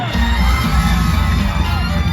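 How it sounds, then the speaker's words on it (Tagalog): Loud crowd cheering and applause fill a packed proclamation rally in Manila as Vice President Sara Duterte is welcomed. The close, continuous roar is mixed with shouts and whoops. "at ating salubungin ng mainit na palakpak at sigawan, Vice President Sara Duterte!"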